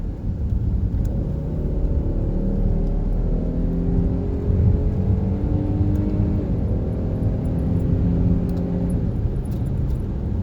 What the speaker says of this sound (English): We're going to downshift manual mode here for this corner.